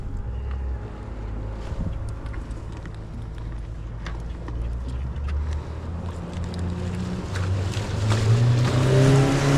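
A motorboat passes by an old fishing dock over shallow water, its low engine drone rising steadily louder toward the end amid wind buffeting the microphone.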